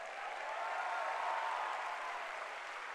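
Applause from an audience at a diamond-rank awards recognition event, a dense steady wash of clapping held at an even level for the whole stretch with no voices over it.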